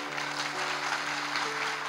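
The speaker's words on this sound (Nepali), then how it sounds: "हामी जोडले महिमाका ताली दिउँ" A church congregation clapping together, a steady wash of many hands heard from within the crowd, with sustained musical tones beneath and no clear talking.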